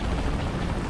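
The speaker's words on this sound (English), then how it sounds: "The chopper?" A helicopter in the video game A Way Out gives a steady, dense rotor rumble and whoosh that fills the moment evenly at fairly loud volume, with no speech over it.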